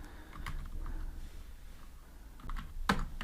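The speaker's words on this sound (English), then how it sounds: "I'm gonna type here menu" Soft, quick keystrokes tapped on a computer keyboard while coding an app, a brief uneven burst of clicks close up with no talking.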